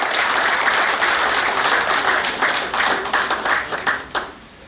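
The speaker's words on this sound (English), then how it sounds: "May we please give the special guest of honor a round of applause." Sustained applause from a large audience greets the special guest of honor at the graduation ceremony of Naval Warfare Course 9 at the Naval War College, Nigeria, a dense steady clapping that breaks into scattered claps and fades out at the end.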